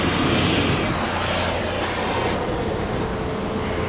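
A torch flame roars steadily against wood being charred for shou sugi ban, a loud, close, continuous blowtorch rush with no talking.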